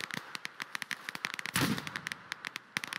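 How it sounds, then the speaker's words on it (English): A grenade going off in the shooter Operation: Harsh Doorstop: a short, muffled blast amid a string of sharp, crackling gunshot pops spread across the moment, moderately distant. "That was a grenade."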